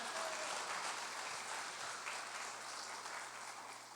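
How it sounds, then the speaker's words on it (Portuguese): A church congregation claps for Jesus during a service: a steady, even patter of many hands that holds for the whole stretch at moderate loudness over a faint low hum, with no voices standing out. "Diga aleluia e dê as palmas para Jesus de Nazaré"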